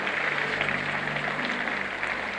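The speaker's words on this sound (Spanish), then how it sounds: "denle un aplauso a Jesucristo una vez más" Easter service congregation applauding, a steady, dense wash of clapping that fills the room evenly from start to finish at moderate level, with no talk over it.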